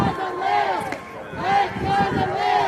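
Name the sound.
protest crowd chanting "Let Gaza live" from afar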